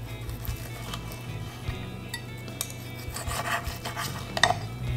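A knife cuts country-style ribs into thin slices on a board, a close series of soft scraping strokes and light taps with an occasional clink, over low background hum, no voices.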